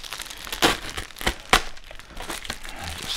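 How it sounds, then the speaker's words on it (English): A knife slicing open the top of a boxed copy of Photoshop Elements 2020, with crinkly cutting and tearing of cardboard and plastic wrap in a few sharp strokes up close. "Just cut the top of this off."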